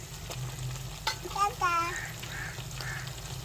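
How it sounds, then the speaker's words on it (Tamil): Tomatoes and drumstick pieces sauté in hot oil with masala, turmeric and chilli powder for a village-style sardine fish curry, giving a steady close sizzle with faint stirring and a brief voice over it. "தக்காளி முருங்கைக்காயெல்லாம் எண்ணெயிலே வதங்கிருச்சு"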